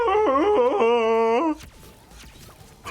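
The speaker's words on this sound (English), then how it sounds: "that's the sound of me falling off the cliff when I die in Crash Bandicoot 4" Crash Bandicoot falling off a cliff and dying in the video game Crash Bandicoot 4: a warbling, wavering cartoon cry that cuts off into quieter scattered game sounds.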